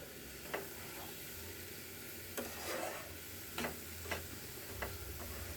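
Cabbage bhaji frying in a pan gives a steady low sizzle, with a few sharp spatula scrapes and clicks against the metal now and then, close up and with no talking.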